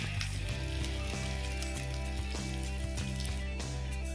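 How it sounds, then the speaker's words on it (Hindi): Schezwan sauce and Maggi noodles fry in a pan with a steady, close sizzle and soft crackling pops, alongside a faint hum. "तो हमारी सेंजन सॉस भी इसमें थोड़ी सी फ्राई हो गई है"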